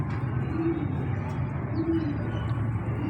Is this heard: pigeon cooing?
yes